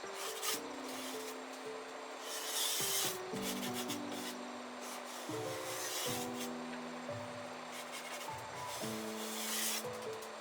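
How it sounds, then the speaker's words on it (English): Steel drywall knife scraping high spots off set joint compound around a framed-in window opening, a continuous close scratchy rasp with strokes stopping and starting across the surface, no talk. "I use my drywall knife to scrape off any high spots from the mud."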